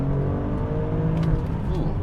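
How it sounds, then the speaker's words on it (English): A 2023 Nissan Pathfinder SUV accelerates from a standstill, its engine and exhaust droning steadily and climbing gradually in pitch, heard from inside the cabin with a faint voice in the background. "I love that exhaust note."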